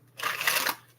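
A deck of tarot cards is shuffled in a single brisk riffle lasting under a second, close and fairly quiet, with no talking.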